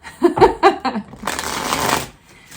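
A tarot card deck is tapped a few times, then given one quick, close riffling shuffle that lasts under a second.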